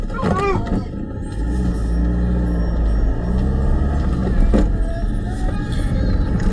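A car on a narrow road with passing spaces in Snowdonia, heard as a steady loud rumble close by, with people talking over it.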